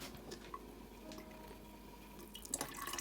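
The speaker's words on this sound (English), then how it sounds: "use a strainer to separate the juice from the pulp for a smooth and clean drink" Beetroot and carrot juice drips and trickles through a strainer, with soft wet patters scattered across a quiet background and a slightly busier splash near the end.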